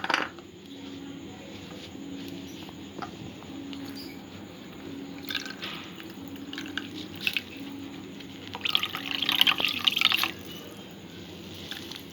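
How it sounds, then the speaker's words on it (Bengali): Coconut milk being strained by hand, soft wet squishing and dripping with occasional light clinks of utensils, fairly quiet and close. "নারকেলের দুধটা আমি ছেঁকে নেব।"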